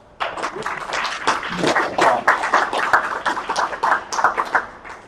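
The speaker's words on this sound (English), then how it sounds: "Please give them a round of applause" Audience at a university panel discussion on VR breaks into applause, sharp individual claps building quickly into a lively round, close and clear, fading slightly near the end with no speech over it.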